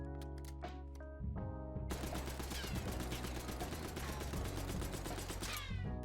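The Tanto submachine gun with a rapid fire mod in Black Ops 6 firing, a few single shots first, then a long, dense, unbroken burst of rapid gunfire lasting several seconds, loud and continuous until it cuts off.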